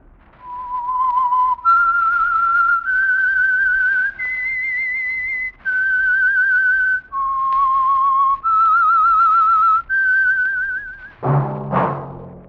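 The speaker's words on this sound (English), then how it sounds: "That whistle is your signal for the signal oil program, the Whistler." A whistled signal melody introduces The Whistler radio mystery program, a clear solo whistle gliding through a sequence of sustained notes with distinct pauses between them, ending in a short orchestral burst.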